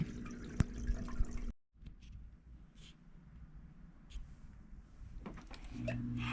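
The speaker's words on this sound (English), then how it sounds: "The weir waterfall is flowing perfectly." Water spills steadily over the weir of an overhead sump filter on a small 5-gallon aquarium, a soft continuous trickle with a brief break and a few faint drips, fairly close and quiet.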